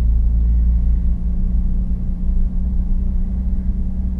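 A Lexus IS300 with a manual gearbox pulls away and drives slowly around a parking lot, giving a loud, steady low engine rumble from inside the cabin with no voices.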